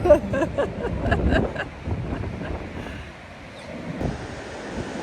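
Ocean waves surge onto a beach where a children's surf championship is under way, a steady wash of surf mixed with wind buffeting the microphone, loud and continuous with no talking.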